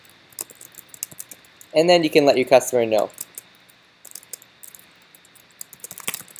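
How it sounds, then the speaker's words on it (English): Rapid, light keyboard clicking sounds close by, with a person briefly speaking in the middle. "Typing a little too fast here."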